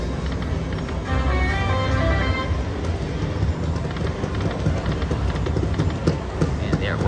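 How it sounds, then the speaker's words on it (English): In a casino, a crowd of players taps on slot machine touchscreens, making a steady patter of quick knocks under a dense wash of machine noise and chatter. "That tapping sound you hear is a bunch of people tapping on their Bao Zhu Xiao Fu Holden spin."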